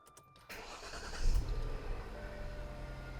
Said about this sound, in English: I'm going to fire it up and see how she runs.